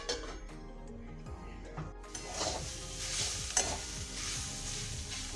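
Papaya pieces fry in a pan with a soft, fairly quiet sizzle, joined by scraping and clinking as a utensil stirs them against the pan.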